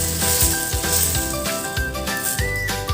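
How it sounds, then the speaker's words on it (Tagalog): Penne pasta and canned spicy tuna are stirred in a hot pan, giving a continuous sizzle broken by repeated scraping and clattering strokes of the spoon. "Tapos ay haluin natin."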